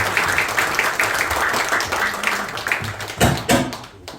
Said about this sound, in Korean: 나오실 때 힘차게 박수로 부탁드립니다.